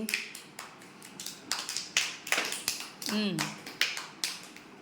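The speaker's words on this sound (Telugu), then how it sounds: "జంషీర్ క్లాప్స్ కొట్టండి, అందరూ కొట్టండి" A group of people clapping hands in a classroom activity, a series of uneven sharp claps with some scattered overlap, close and fairly loud, with voices and a brief high squeak mixed in.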